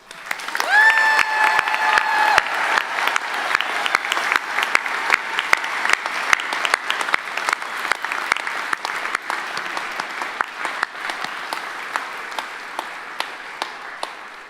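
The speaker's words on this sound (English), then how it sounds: "could we please give a round of applause for our graduates" Sustained applause for graduates at an agriculture faculty ceremony, a large audience clapping loudly and steadily for about fifteen seconds with sharp individual claps standing out near the end, no talking over it.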